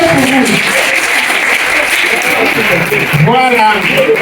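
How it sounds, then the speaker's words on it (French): Audience applause at a celebration of newly promoted ranks at Elie Palace, loud and continuous clapping mixed with music and voices of the crowd filling the hall throughout. "Applaudissez pour vous."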